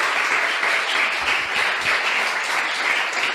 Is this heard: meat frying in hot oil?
no